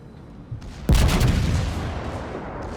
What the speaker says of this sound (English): Just look at the secondary barrage